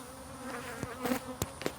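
Honeybees buzz close by during a hive removal in Cleburne, Texas, a brief, fairly soft drone that rises and falls with a few louder passes.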